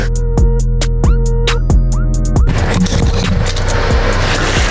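Honda IndyTruck race engine, a 2023 Ridgeline-based build, fires up close and loud: a few sharp, spaced throttle blips, then a sustained raw, rasping roar.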